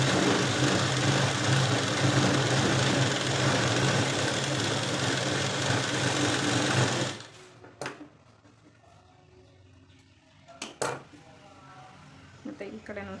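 A sewing machine runs a second line of stitching along the edge of a puff sleeve on a blouse. Its close, steady motor whir lasts about seven seconds, then stops, leaving quiet handling noises and a few soft clicks.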